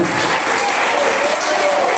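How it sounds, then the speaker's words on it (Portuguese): Congregation at an evangelical church service clapping together, a steady dense patter of many hands filling the space for a couple of seconds with no break. "dê umas palmas bem alegres para o Rei Jesus"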